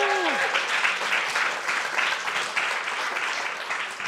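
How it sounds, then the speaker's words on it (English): An audience at a children's talks event gives a round of applause, dense clapping that stays steady and fairly close, with a voice briefly audible at the very start. "So give yourselves a little round of applause."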